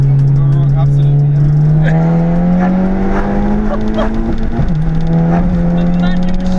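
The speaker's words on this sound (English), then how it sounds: "350 brake, 500 Newton meters. And a straight piped DK exhaust." A 350bhp Golf GTI with a straight-piped DK exhaust and manual gearbox accelerates hard from on board, its loud, steady engine drone rising in pitch before a sharp gear change drops it, then climbing again.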